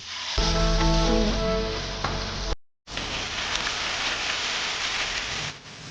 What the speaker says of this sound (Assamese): কেৰাহী এটাত অকণমান তেল লৈ মাছখিনি ভালকৈ ভাজি ল'ব